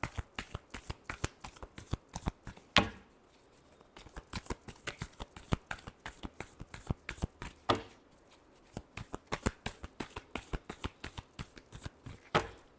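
Tarot cards are shuffled by hand in repeated rapid riffles and slaps, close and crisp, with brief pauses between bursts and no talking.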